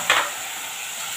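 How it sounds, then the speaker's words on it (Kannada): Tomatoes frying in a pan over a medium flame, a steady close sizzle with a brief stir at the start. "ಟೊಮೆಟೊ ಎಲ್ಲ ಸಾಫ್ಟ್ ಆಗಲಿ ಅಲ್ಲಿ ತನಕನೂ ಮೀಡಿಯಮ್ ಫ್ಲೇಮಲ್ಲಿ ಇಟ್ಬಿಟ್ಟು ಇದನ್ನು ಚೆನ್ನಾಗಿ ಫ್ರೈ ಮಾಡ್ಕೊಳ್ಳಿ"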